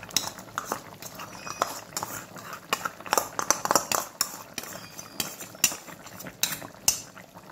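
A ground spice paste is stirred into a pan for a thin brinjal and fish curry, with irregular metallic clinks and scrapes of a utensil against the pot, some close and sharp, over quiet background.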